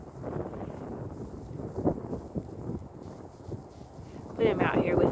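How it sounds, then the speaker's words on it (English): Gusty outdoor wind buffeting a microphone in a field with ewe lambs, a low rumbling roar that swells near the end, with someone talking over it. "With all the wind, I'm not sure how clear this will sound."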